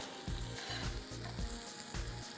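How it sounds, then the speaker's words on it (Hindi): Masala seasoned with salt and cumin fries in a pan, a steady close sizzle broken by four rhythmic scraping stirs, with no voices. The masala is being cooked for tawa maghaz, a dish made with boiled goat brain. "और अब इस मसाले को अच्छी तरीके से हमने जो है भून लेना है"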